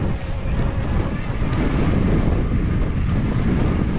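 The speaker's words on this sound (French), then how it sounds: "le vent est frais un peu, mais le fond d'air est frais. C'est un vent du sud." Strong wind buffets the microphone on a mountain-bike trail near Sunbilla, a loud continuous rumbling roar with no speech.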